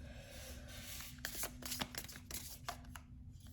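Tarot cards are shuffled by hand in quick, irregular riffles and slaps, with a few sharper snaps of cards against each other over a low background hum, close and fairly clear.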